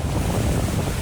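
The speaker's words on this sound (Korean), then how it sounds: "거센 파도가 몰아치는 바다 한가운데 뭔가가 보입니다." Rough sea pounding at a small harbor on Jeju Island, with wind gusting hard across the microphone; a dense, steady roar of surf and wind close by, with no voices.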